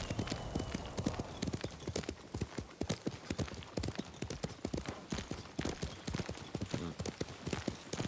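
Rapid hoofbeats of a horse in Ghost of Tsushima Director's Cut clip-clop in a steady galloping rhythm, crisp and close, with faint background ambience and no talking.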